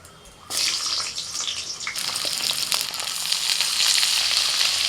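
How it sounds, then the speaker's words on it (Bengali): Pointed gourd (potol) dropped into hot oil in a wok, bursting into a loud, sustained sizzle that continues steadily without any talking. "কড়াইতে তেল দিয়েছি, প্রথমে পটলটা ভেজে নেব।"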